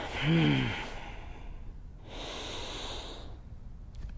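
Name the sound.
yoga class breathing out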